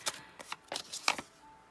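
Tarot cards are shuffled in several quick, crisp riffling bursts with short pauses between them, heard up close with no talking.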